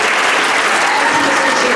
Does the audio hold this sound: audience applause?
yes